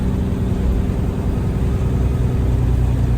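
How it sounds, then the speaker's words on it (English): A cabover flatbed truck's engine runs steadily nearby, a loud, continuous low rumble with an even throb and no pauses. "I've been getting a lot of requests to hear the truck running"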